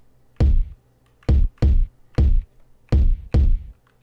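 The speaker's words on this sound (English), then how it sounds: "Last night I made a kick." Synthesized kick drum designed for sound design, six deep booming hits with a quick pitch drop and short tail, played in an uneven pattern, loud and close with silence between.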